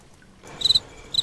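A cricket chirping sound effect plays in a difficult climbing video game: two short, bright trills arrive close together after a quiet start, with no talking.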